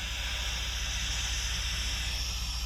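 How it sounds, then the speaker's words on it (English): Steam hisses steadily out of a Polaris RZR engine's cooling system during coolant bleeding after overheating, a constant close broadband rush with a low engine throb underneath, no talk. "See all that steam coming out?"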